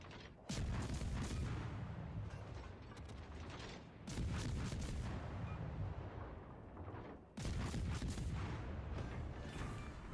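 Heavy naval guns booming in World of Warships Legends, three big broadband blasts a few seconds apart, each followed by a long rumbling decay and mechanical creaks.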